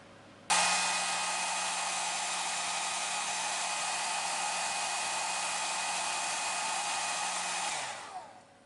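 A cheap Revlon hair dryer switches on and blows steadily and loudly for about seven seconds to dry weathering paint on a model SD70 locomotive, then winds down; no voices.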